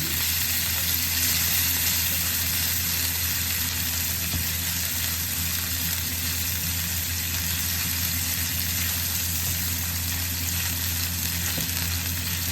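Minced pork frying in a pan, a loud, continuous close sizzle that stays steady and dense throughout, with no voices.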